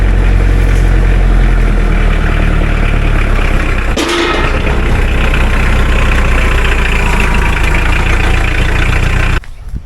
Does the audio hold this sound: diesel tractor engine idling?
yes